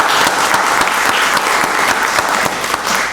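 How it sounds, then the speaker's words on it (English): At a Rockdale County Board of Commissioners meeting, the room applauds Director Peak with sustained, close, loud clapping from the audience, a dense even roar of hands with a few sharper individual claps standing out. "Give him a round of applause."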